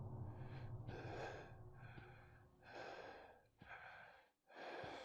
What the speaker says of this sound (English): the player's breathing.